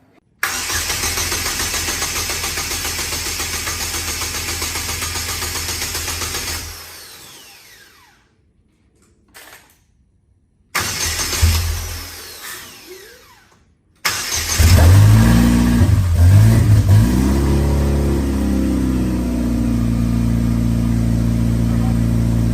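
A Cobalt SS engine fitted in a DF Goblin kit go-kart runs loud and steady, cuts out to near silence, sputters back briefly, then fires up on its first start attempt and revs hard, rising and falling before holding a strong idle.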